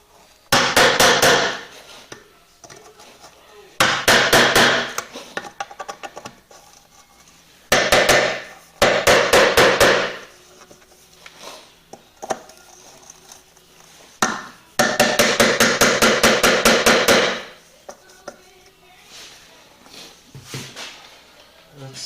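A hammer taps screws on the plastic wheel of a 1979 Chrysler 300 RC model car in several bursts of rapid, sharp, close blows, separated by quiet pauses with faint handling noise.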